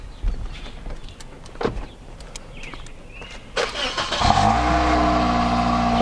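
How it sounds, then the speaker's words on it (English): Quiet ambient noise with a few thumps, then a Toyota car engine cranks from cold and fires up, settling into a steady, close idle. "let me get a cold start"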